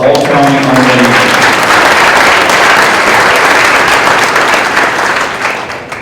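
Loud, close applause at a high school winter sports awards ceremony honoring all-county honorable mentions, a dense roar of clapping that begins as a voice trails off and tapers slightly at the end.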